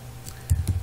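A couple of quick computer keyboard key presses, the enter key among them, sounding close and fairly clear against a quiet low hum.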